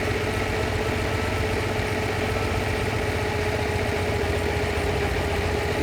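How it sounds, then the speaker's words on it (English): A 1960s Lamborghini 350 GT engine idles steadily while its idle mixture screw is adjusted, giving a continuous close, loud, even low rumble with a faint mechanical whine and no pauses. "The engine note has definitely dropped there"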